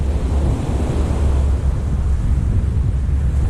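Strong wind blows along a seaside beach, roaring constantly against the microphone over the low rumble of surf.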